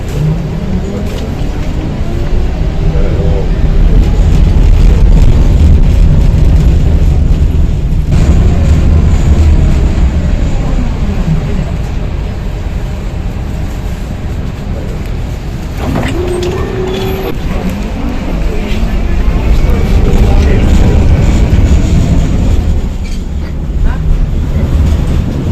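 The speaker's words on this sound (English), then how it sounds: "this tram's got a classic Eastern European style DC pulsing drive" Sarajevo tram with an Eastern European style DC pulsing drive, a loud, steady low rumble and whine that runs throughout, with brief tonal pulses partway through.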